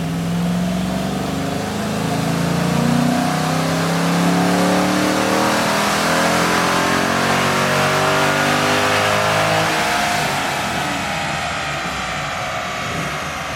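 A car with a stage 2 cam tune revs hard on a dyno, its loud engine note climbing and sustaining as it pulls through the rev range, dropping off slightly near the end with no voices.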